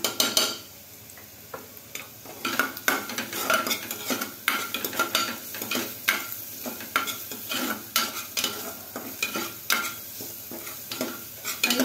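Ginger-garlic paste sizzles in a pan with fried onion for a kharda chicken dish, with repeated scraping and clinking of a spoon against the pan at an uneven pace, close and clear, with no talking.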